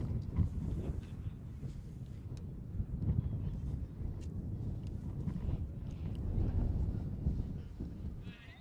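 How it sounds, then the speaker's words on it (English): Wind gusts across an outdoor soccer field during a women's college match, a steady low rumble of buffeting on the microphone that rises and falls with the gusts. "Can feel the wind picking up now too a little bit."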